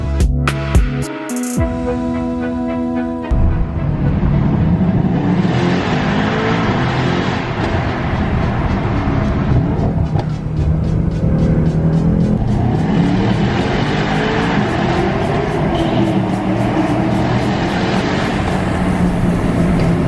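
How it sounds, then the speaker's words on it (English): Mercedes-AMG E63 accelerating hard through a tunnel: a loud, echoing engine roar builds and holds for the full stretch, with rising revs and gear changes reverberating off the enclosed walls, no talking. "You gotta floor it through the tunnel"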